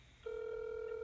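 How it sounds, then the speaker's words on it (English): A call placed from an Apple Watch 3 rings out as a steady electronic tone, starting a quarter second in and holding loud and continuous to the end, with no talking over it. "So it's ringing."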